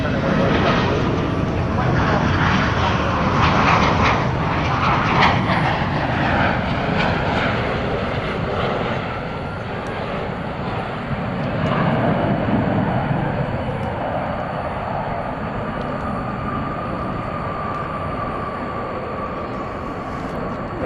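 A cargo plane comes in to land at DFW Airport at night, a loud sustained engine roar and rushing jet noise that slowly swells and fades. Faint radio chatter and voices run underneath.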